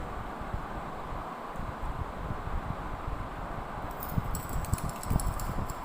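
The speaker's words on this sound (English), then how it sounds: "Now again I have to stir it." A spoon stirs sugar into water for a solubility demonstration, with steady broadband swishing and a cluster of light, bright clinks against the glass near the end; no voices.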